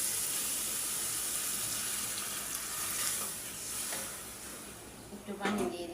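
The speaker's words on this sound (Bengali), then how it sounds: "একটু পানি দিয়ে দিলাম।" Water poured into a frying pan where boal fish is being cooked and fried with spices gives a steady broadband sizzle, swelling briefly near the end as the liquid hits the hot pan.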